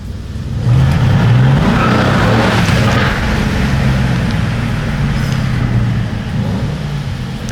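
A Mercedes W205 C63 AMG engine revs up and holds a loud, deep roar close by for several seconds, easing off slightly toward the end.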